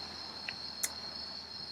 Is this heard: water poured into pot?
no